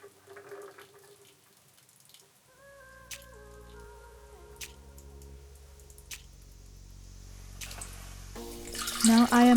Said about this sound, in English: Now I am adding some water to add up to 900 milliliters of water.